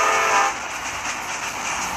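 A train in a video game rolls past with a loud horn blast at the start, followed by a steady rumbling rush of the cars.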